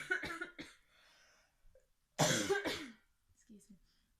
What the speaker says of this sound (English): every time I start coughing again, they re-wake up